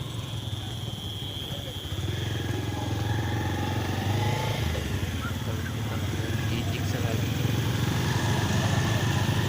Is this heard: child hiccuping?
no